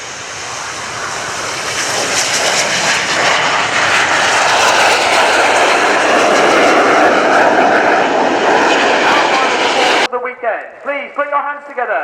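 Red Arrows jets roaring down the runway for takeoff at RIAT 2017 at Fairford, a loud, broad jet-engine rush building and holding for ten seconds before cutting away to a commentator's voice.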